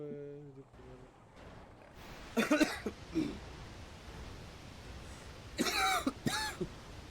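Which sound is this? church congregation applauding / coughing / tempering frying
coughing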